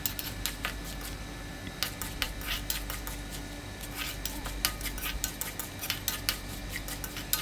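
Red chillies and urad dal roast in a pan, with a spoon clinking and scraping against the metal in quick, irregular taps over a low, steady background hiss; nobody speaks.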